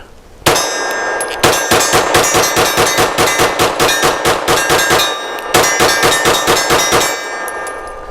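An FN 509 Midsize Tactical pistol fires PMC Bronze rounds from an extended magazine at steel targets, producing a fast, loud string of shots in two long runs, each with ringing metallic clangs from the hit steel.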